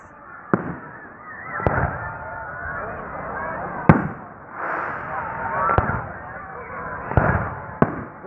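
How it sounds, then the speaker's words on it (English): Several sharp Fourth of July firework bangs burst at irregular intervals over a crackling, hissing background, with occasional voices in between. "Get a little glimpse of that firework."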